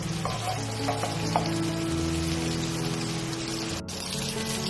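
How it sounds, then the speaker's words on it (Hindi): Kebabs fry in a pan over high flame, producing a dense, continuous loud sizzle and crackle with a low steady hum beneath and no talking. "हमारे कबाब फ्राई हो चुके हैं।"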